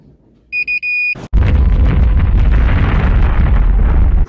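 A Federal Signal Valor police lightbar siren on a Ford Explorer under test: a few short electronic beeps, then a sharp pop and a loud, sustained roaring blast close by.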